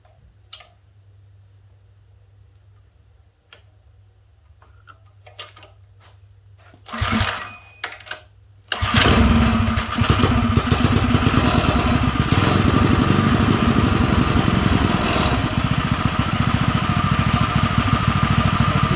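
A mini bike engine, its idle not yet set, catches after a stretch of near silence and some faint clicks, then roars into a loud, steady, continuous idle that runs on unbroken.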